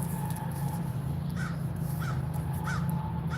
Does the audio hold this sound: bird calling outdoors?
yes